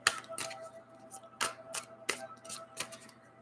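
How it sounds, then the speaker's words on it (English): A deck of soft oracle cards is shuffled, giving a series of quiet, crisp flicking riffles and taps at an uneven rhythm, close and faint with no talking. "I'm really trying to shuffle a lot with these cards"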